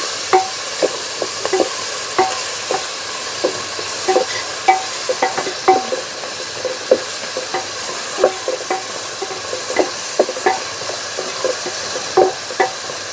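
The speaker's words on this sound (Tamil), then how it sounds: "இதை சேர்த்துட்டு நல்லா இஞ்சி பூண்டு வாசனை போகிற வரைக்கும் நல்லா கிளறி விட்டுக்கலாம்." Ginger garlic paste fries for a vegetable biryani while a spoon stirs it with repeated, rhythmic scraping strokes over a constant close sizzle, with no voices.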